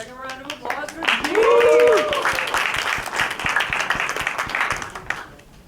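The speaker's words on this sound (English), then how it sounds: "Second round of applause for Jean!" Applause from a poetry slam audience for the poet Jean, a steady clatter of clapping that swells after the first second and holds to the end, with voices rising above it and a brief whooping call near the start.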